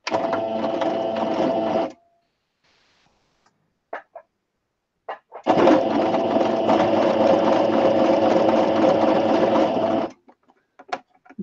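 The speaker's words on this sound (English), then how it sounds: "Stop trying to tell the ladies things then while I'm sewing." A sewing machine stitching fabric for a fabric pocket book runs in two loud, steady bursts, the first about two seconds long and the second about four and a half seconds, separated by near silence with a few small clicks.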